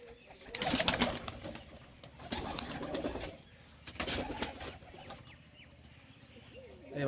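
Young pigeons in a loft give soft, low coos scattered through the stretch, mixed with rustling, a few wing flaps and brief chirps, all fairly faint and close.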